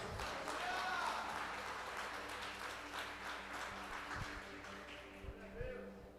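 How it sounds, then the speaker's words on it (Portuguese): A church congregation breaks into applause after the preached word, a moderate, fairly distant wash of clapping mixed with voices and a little background music, slowly thinning toward the end. "Receba a palavra com palmas"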